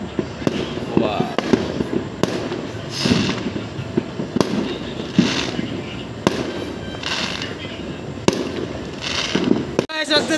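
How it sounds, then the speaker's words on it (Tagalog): New Year fireworks and firecrackers go off in a steady string of sharp bangs and crackling pops, some near and loud, others distant, while rain falls and voices talk over the noise. "ang dami bigla nagpaputok"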